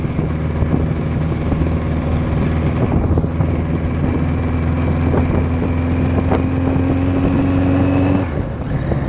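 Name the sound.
1983 Kawasaki GPZ1100 motorcycle riding, slight exhaust leak tapping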